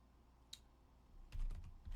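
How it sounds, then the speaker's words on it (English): Quiet typing on a computer keyboard: a single soft click, a pause, then a quick cluster of key taps close to the microphone in a still room. "I can show y'all my typing real quick"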